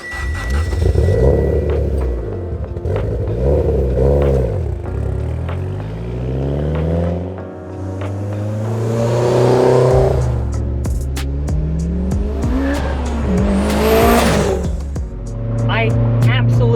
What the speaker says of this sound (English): this built 2-liter turbocharged engine, this thing is a rocket